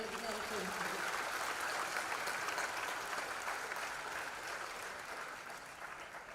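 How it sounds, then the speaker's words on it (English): A school audience at a prize-giving ceremony claps for the sportsmen, a dense sustained wash of applause heard from some distance, steady throughout and easing slightly near the end, with no talk over it. "Can we give all our sportsmen a big round of applause, ladies and gentlemen?"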